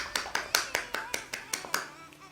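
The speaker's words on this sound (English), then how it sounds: "I can clap without actually touching my two hands together." A person clapping without touching the hands together, about ten quick, sharp, evenly spaced claps in a short burst, close and fairly crisp with no talk over them.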